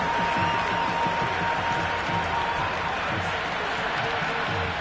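A packed cricket ground's crowd roars and applauds after a well-timed shot, a dense, sustained wall of cheering and clapping that stays loud and steady throughout, with a faint tone running beneath for the first half.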